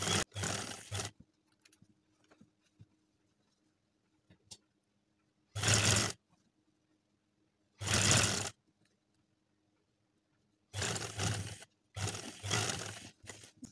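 A sewing machine stitching a pocket onto a ladies' kameez runs in short loud bursts separated by near silence, with faint handling clicks in the pauses.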